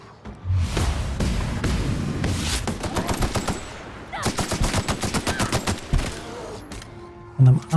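Machine gun fire from The Outer Worlds video game comes in loud rapid bursts with clear repeated rhythmic shots, then breaks off into scattered single shots near the end.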